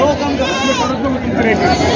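Goats bleating at a large goat and sheep market, a loud, wavering bleat close by rising over a busy crowd of voices and other animal calls, with people talking nearby.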